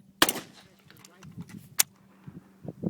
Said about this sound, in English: Failure to extract again.